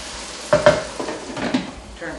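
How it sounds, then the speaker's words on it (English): Beef stroganoff being stirred in a pan on a stovetop, a few soft scraping strokes with a light sizzle underneath, fairly quiet and close, with no talking. "give it a little stir"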